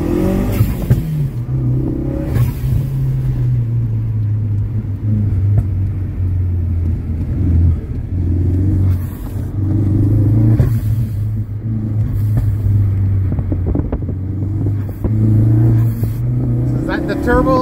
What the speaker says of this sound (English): Turbo four cylinder.